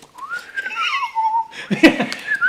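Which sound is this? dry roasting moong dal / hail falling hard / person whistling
person whistling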